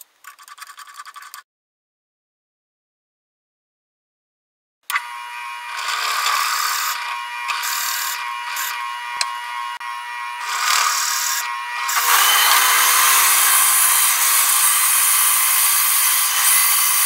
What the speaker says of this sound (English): the first thing I want to do is find the centers so I can drill holes